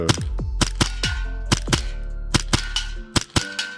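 A Hi-Capa Wildcat custom airsoft pistol fires sharp, loud, close shots in quick pairs at targets 15 metres away, each crack followed by a short metallic ring, with faster clustered shots near the end.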